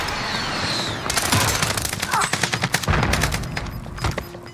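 Rapid gunfire bursts from Warzone, a battle royale shooter, crack in a dense volley over a steady game backdrop. Loud repeated shots cluster in several close strings.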